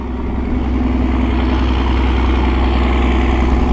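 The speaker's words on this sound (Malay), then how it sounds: "Oi, kuat geng bunyi bot." A steady, loud boat engine drone runs throughout on a river, a constant low rumble with no pauses, close by and unchanging in pitch.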